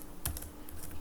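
Keys tapped on a computer keyboard while code is typed, a short cluster of a few clicks near the start followed by lighter, scattered taps, close and quiet.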